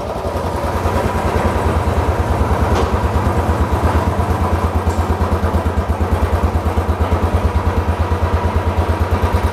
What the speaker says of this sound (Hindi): अगर आप बाइक स्टार्ट कर लेंगे